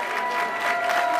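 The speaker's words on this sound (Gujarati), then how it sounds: "તાળીના ગગડાથી વધાવી લઈએ" An audience claps at a Navratri gathering held by a Radha Krishna temple in Artesia, Los Angeles. The applause is short, steady and moderately loud, with a faint tone running underneath.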